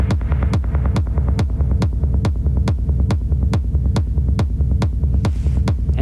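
A deep synthesized kick drum thumps in a steady four-on-the-floor rhythm, each hit trailing a washy reverb tail, loud and alone throughout.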